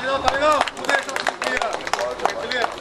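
Audience clapping at a high school batch reunion cultural program, a fast uneven patter of applause from many hands under a voice speaking over it.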